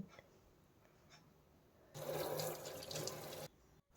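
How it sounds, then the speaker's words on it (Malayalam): Green chillies washed under a running kitchen tap, water gushing into the sink for about a second and a half before stopping, close and clear with no talking. "മുളക് നല്ല വൃത്തിയായി കഴുകി"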